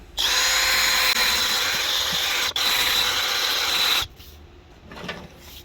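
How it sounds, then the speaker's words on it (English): A car headlight lens is sanded with fresh 500 grit sandpaper, a loud continuous close abrasive hiss with a brief break midway, then it cuts off and only quieter rubbing remains. "let's jump up to some 500 grit again, see if we can't start polishing some of those scratches out"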